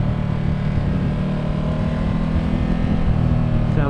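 A 2017 Ducati Multistrada 1200 motorcycle engine runs close by with a loud, steady, even throb and a constant low hum, with no revving.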